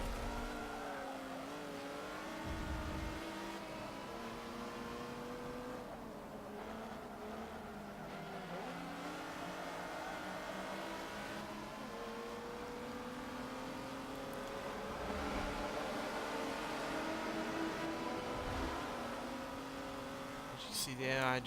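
A race car engine at about 160 mph in the Forza Motorsport 7 video game drones loud and steady, its high revving pitch wavering slightly as gears shift, joined by occasional tire noise.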